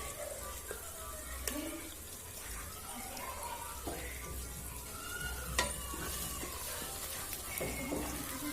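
About 50 grams of ginger sizzles and is stirred in a pan over an electric cooker, a faint, steady frying hiss broken by occasional scraping and clinking taps.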